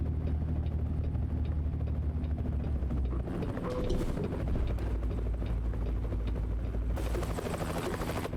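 A helicopter in the video game American Truck Simulator gives off a steady, loud rotor drone with a rumbling low end, and it swells briefly near the end. No one speaks.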